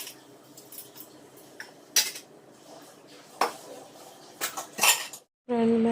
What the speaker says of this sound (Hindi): मैंने बर्तन तो धो लिए।